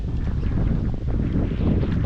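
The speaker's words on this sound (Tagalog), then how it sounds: "Lakas ng hangin" Strong wind buffets the microphone at a floating house on the water during a fishing outing, a constant low roar with gusty swells and no speech.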